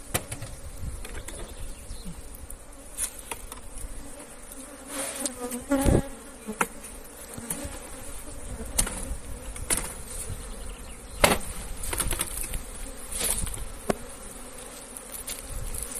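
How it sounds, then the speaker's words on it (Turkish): Honey bees buzzing around a hive frame being shaken during beekeeping, a steady dense insect drone that swells briefly with sharper bursts, heard close and alone with no talking. "almadan önce şu arıdaki arıları silkeleyeceğiz"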